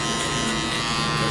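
Electric shaver buzzing steadily and close up during a haircut at a barbershop, a continuous motor hum with no voices over it.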